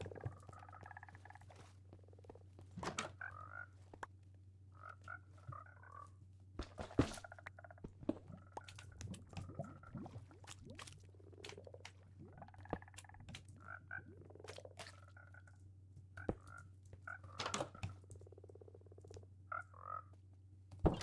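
Frogs croaking in the Minecraft video game, repeated short ribbity calls in irregular bursts over a steady low hum, with sharp clicks and taps scattered between them.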